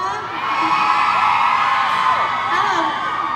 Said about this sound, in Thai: กรี๊ดดังๆกรี๊ดมาได้นะคะ